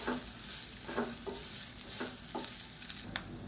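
Steamed kolukattai dumplings are stir-fried in oil, with a spatula scraping and tossing them in repeated strokes over a constant sizzle. No one speaks.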